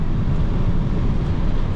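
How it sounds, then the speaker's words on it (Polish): A crosswind buffets a 2019 Tesla Model 3 Standard Range driving fast uphill, heard from inside as a dense, continuous rushing roar that stays loud and even throughout. "Wiatr boczny."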